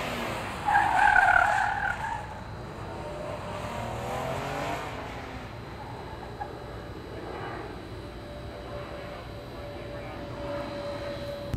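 Ford Interceptor police car, utility and sedan versions from 2016, skidding on a test track, with a brief loud tire squeal early on and then a steady engine and road roar, a voice faintly present.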